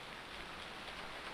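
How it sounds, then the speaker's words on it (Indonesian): Steady rain falls in the Harvest Moon Friends of Mineral Town video game, an even soft hiss with no talk over it. "Mumpung hujan guys"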